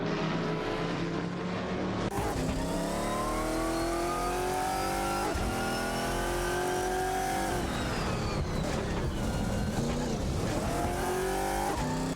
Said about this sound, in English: Exciting dynamics between the Koenigsegg CCGT and the Aston Martin DBR9.